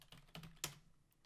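A few quick keystrokes on a computer keyboard, close but fairly soft, with uneven spacing and a sharper clack near the middle.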